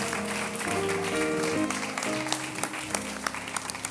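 An audience applauds at a live event, dense clapping under faint musical tones and some voices, tapering into scattered claps toward the end.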